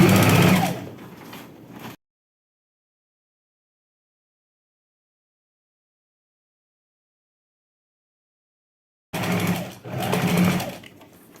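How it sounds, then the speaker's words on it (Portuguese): An overlock sewing machine stitching seams on homemade shorts with pockets and elastic, loud rapid whirring in two short bursts separated by a long silence. "vou passar na overlock"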